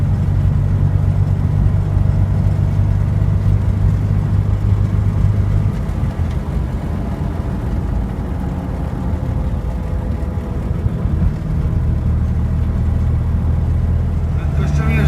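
A Fiat 126p small car engine runs steadily while driving, a continuous loud low drone with a constant hum throughout, with some voice-like sound mixed in.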